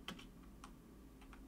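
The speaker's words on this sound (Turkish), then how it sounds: "Klavye sesimi duyuyorsunuz." Quiet keyboard typing, a handful of light, irregular key clicks close by over a faint steady hum.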